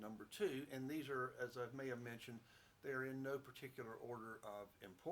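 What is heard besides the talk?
No everyday noise stands out behind the speech.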